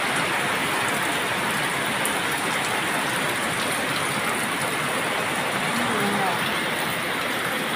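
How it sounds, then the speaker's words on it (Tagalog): Heavy typhoon rain pours down steadily at dawn in a dense, continuous hiss, loud and close throughout with no pauses. "Nakakalakas ng ulan."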